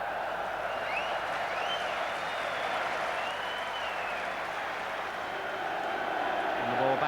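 A football stadium crowd at the 1992 Leicester City v Blackburn Rovers playoff final gives off a steady, loud mass roar of booing and noise that never lets up, and whistles rise and fall above it.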